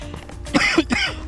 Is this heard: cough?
yes